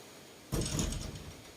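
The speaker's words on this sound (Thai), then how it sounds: "เดี๋ยวพี่นี่ไปปิดประตูกันเด้อค่ะ" A pizza shop's door slides and shuts with a sudden rumbling scrape, followed by a fading mechanical rattle close by, on a rainy day.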